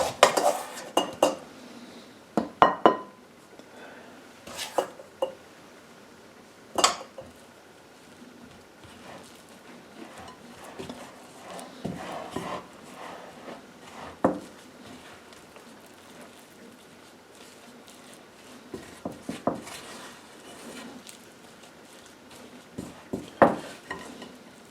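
Dough for German stollen being stirred in a mixing bowl, giving soft scraping and clinking of a spoon against the bowl with scattered sharper knocks, close and fairly quiet, no voices.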